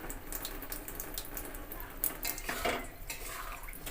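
A bowl with spice residue gets washed under running water in a kitchen sink, tap water flowing steadily with light clinks and scrapes of the bowl, close and fairly quiet.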